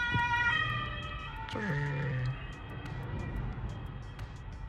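A police car siren sounds nearby over traffic noise in Germany, its tone shifting as it passes, with faint voices underneath.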